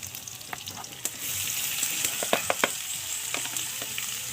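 Paklay frying outdoors in a pan over a makeshift fire, a steady loud sizzle with scattered pops and crackles throughout, no voices.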